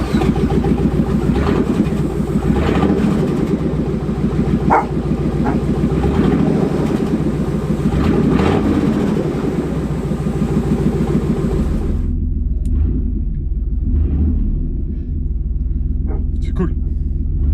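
A pickup truck's engine runs with no exhaust fitted, making a loud, deep, rattling rumble that throbs steadily for about twelve seconds. The rumble then drops to a quieter idle.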